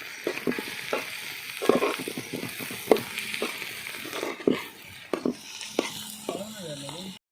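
Green chilies are added and stirred into a village-style goat intestine fry, with loud, close sizzling and frying and repeated scraping strokes of a spatula against the pan.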